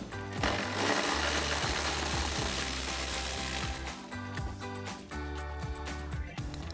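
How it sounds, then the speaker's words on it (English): A ratchet with a 13mm socket works loose the grille bolts on a Ford F-150, a rapid clicking and whirring run followed by a sequence of separate ratcheting clicks, close and fairly loud. "So we'll take a 13mm socket to remove them."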